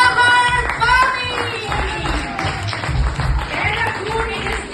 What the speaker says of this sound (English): Big round of applause for Shwamar Bami!